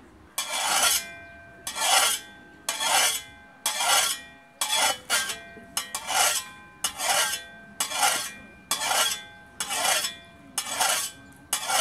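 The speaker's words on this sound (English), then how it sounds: "you always want to work files only cut in one direction" A rough metal file is drawn across a tool edge in about a dozen steady, evenly spaced rasping strokes, each cutting in one direction only, loud and close with no talking.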